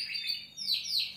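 A male cage bird, a late-developing young singer just starting to sing, gives a short run of high chirping notes with quick downward-sweeping whistles, close and fairly clear over a faint low background.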